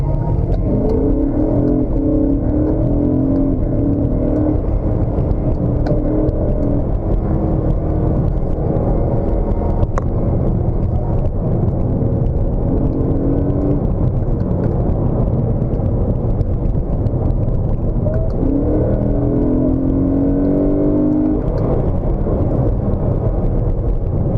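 A BMW M3 in sport mode growls through its engine and intake, a steady loud rumble with revving swells, heard up close from inside the car and with no one speaking.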